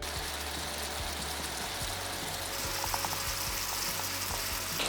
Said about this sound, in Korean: 팬을 한쪽으로 기울여서 기름을 좀 고이게 한 다음에 그 기름에다가 춘장을 볶아준